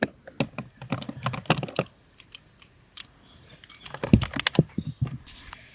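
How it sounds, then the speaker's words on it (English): Small 8mm bolts being worked loose and removed from the blower motor resistor under the dash of a 2002 Dodge Dakota, giving close, irregular bursts of light metallic clicks and ratcheting taps with a quiet pause in the middle. "there's two little 8mm bolts on the resistor itself. I'm going to take those out."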